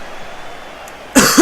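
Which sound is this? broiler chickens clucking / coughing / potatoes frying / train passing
coughing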